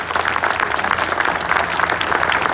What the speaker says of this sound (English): give Guy a big round of applause for his time today